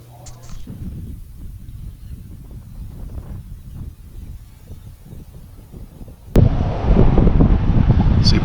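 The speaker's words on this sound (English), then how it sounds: "it's super windy and the dust is just flying" Gusty wind buffets the microphone outdoors in dry Texas country near Big Spring, Big Bend and Lajitas, low and rumbling at first, then surging much louder for the last couple of seconds, with faint voices underneath.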